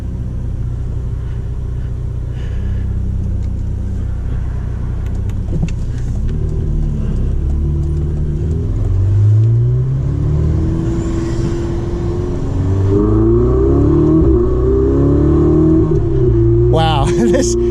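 A Ferrari 488 Spider engine rumbles and revs steadily from inside the cabin, pitch rising and falling as it accelerates, with a brief burst of high noise near the end.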